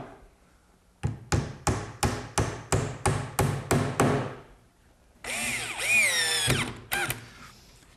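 A power drill bores pilot holes for screws in oak on a bathroom vanity, a sustained whirring burst that rises and falls in pitch for about a second, following a close run of eight or so evenly spaced hammer blows.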